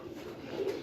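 Domestic pigeons on a rooftop loft in Islamabad give a soft, low coo, faint and brief against a steady background hum.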